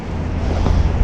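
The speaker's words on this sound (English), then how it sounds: "It's very windy today." Wind blowing hard across a lake during kayak fly fishing, a short burst of low, rumbling gusts buffeting the microphone.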